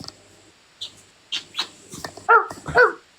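A dog lets out a few short, close barks or yelps in quick succession near the end, after several quieter soft sounds, with no talking.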